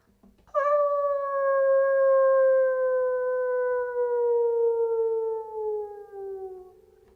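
A single sustained, wailing harmonica note rings out loud and close, slowly bending downward in pitch as it fades over several seconds.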